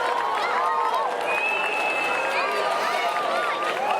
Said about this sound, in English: Crowds are cheering.